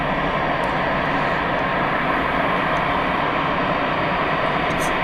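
A Serbian-registered Cessna Citation private jet at Bordeaux airport gives a continuous, fairly loud, broadband engine roar that holds steady throughout, with no voices.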